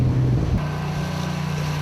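A rubber boat deployed from a navy vessel off Moseulpo during a special forces sea infiltration: a steady low motor drone with heavy wind buffeting the microphone and open-sea noise.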